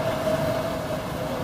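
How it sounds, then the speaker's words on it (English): Passing train heard as a steady, loud, continuous rumble with a faint whine running through it, no talk over it. "Oh, the train."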